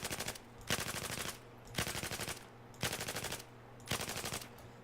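A light machine gun in Battlefield 4 fires in short controlled bursts, five rapid rattling volleys evenly spaced with brief gaps between them.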